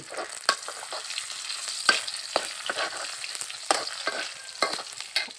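Garlic frying in a pan for a hill-country stir-fried crab dish, a bright continuous sizzle broken by quick stirring scrapes, close and steady, no voices.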